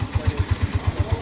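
A motorized trike rides along at night, its small engine thumping in a fast, even putter of regular beats, close and moderately loud with no talk over it.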